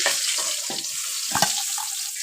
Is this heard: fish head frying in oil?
yes